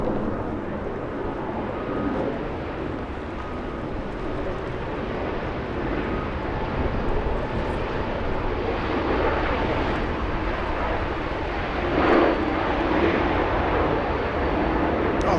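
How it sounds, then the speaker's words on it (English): Air Canada Airbus A380 airliner arriving at Los Angeles International Airport, a steady broadband engine roar that stays even and fairly loud, swelling slightly near the end as the jet passes. "we have the Canadian Air Canada 775 flying in from Montreal. A380, that one."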